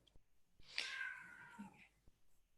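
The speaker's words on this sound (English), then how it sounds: "I can hear a cat meowing." A pet cat meowing indoors, one drawn-out, fairly clear meow preceded by small clicks and followed by a softer trailing sound, alone without talk.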